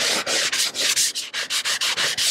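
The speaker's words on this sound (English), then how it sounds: "And sand, just score the plexiglass right there." Sanding block scuffing the plexiglass of a skylight: a steady run of short, regular rasping strokes, close and loud, about a dozen back-and-forth passes with no talking.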